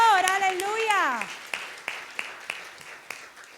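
A voice rings out with a drawn-out sung or shouted word as applause starts in a church congregation, then several clear, separate claps follow at an even pace and fade out.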